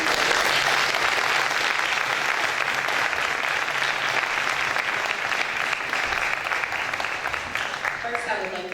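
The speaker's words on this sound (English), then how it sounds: "I think we need to give a round of applause to all the candidates" Sustained applause from an audience at a mayoral candidates' debate in Plainfield, New Jersey, a dense, steady clapping that fills the whole stretch at even loudness, with faint voices mixed in.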